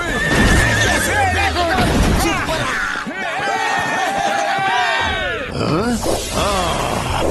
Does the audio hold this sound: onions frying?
no